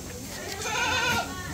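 Goats bleat on a goat farm in Ahmedabad, a wavering, nasal cry close by, rising in the middle of the clip over a busy background.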